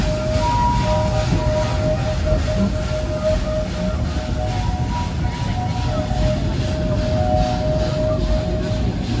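A Roaring Camp train in Felton, California sounds its horn in a long, drawn-out signal before a road crossing, a steady tone held for the whole stretch over a loud, constant rumble of the moving train.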